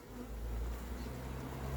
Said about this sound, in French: presque toutes les abeilles sont dans le carton